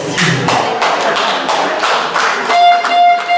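Tournament audience applauding after a winner is called up, a loud, close burst of clapping with distinct hand taps and a faint tone entering near the end.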